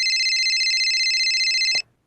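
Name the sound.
phone ringing with an incoming call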